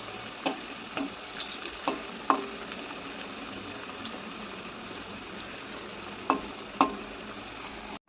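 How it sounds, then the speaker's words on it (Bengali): Sliced potatoes fry in hot oil in a pan, giving a steady bright sizzle with occasional sharp crackles and stirring clicks, close and continuous, with no voices. "এখানে আলুটা আমার ভাজা হয়ে গেছে"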